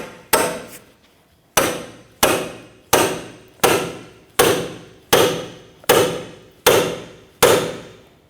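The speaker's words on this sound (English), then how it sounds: "to separate the ball joint from that knuckle, I'm going to use what they call a pickle fork" Ten sharp metal-on-metal hammer blows drive a pickle fork between the ball joint and steering knuckle of a 2007-2017 Jeep Patriot, struck close and loud at a steady pace with ringing decay after each hit.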